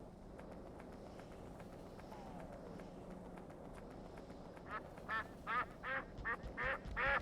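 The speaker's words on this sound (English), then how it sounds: "Kinda thinks I should have chosen a better duck sound" Duck quack effects in the game Factorio Nullius sound in a quick run of several short, nasal quacks near the end, after quieter footstep-like game sounds.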